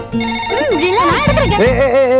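A telephone rings with a bright electronic ringtone melody over a background of other sounds, loud and continuous throughout.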